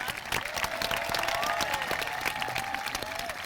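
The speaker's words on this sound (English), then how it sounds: "Can we please get a round of applause for Ms." Crowd applause at a middle school moving-on ceremony, honoring a homeroom class: steady, moderately distant clapping with light cheering, continuous for the whole stretch.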